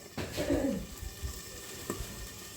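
Potatoes fry under a lid in a covered pan, giving a soft, steady sizzle with faint crackles and a couple of brief clinks, heard fairly close and alone.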